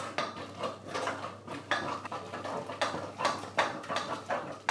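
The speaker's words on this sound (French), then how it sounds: "je viens d'incorporer mes 3 œufs dans ma pâte" Beaten eggs are worked into choux pastry dough in a bowl, giving a steady, rhythmic wet slapping and scraping of a utensil through the thick paste, fairly quiet and continuous, with no speech.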